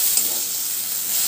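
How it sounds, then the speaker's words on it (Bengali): Spice paste for an egg and papaya korma sizzles steadily in a hot pan, a close, even frying hiss with no pauses and no voices. "দেখতে পাচ্ছেন যে আমার মশলাটি কিন্তু খুব ভালোভাবে কষানো হয়ে গেছে"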